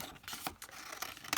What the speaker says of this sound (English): Actually, I'm just going to cut this like that.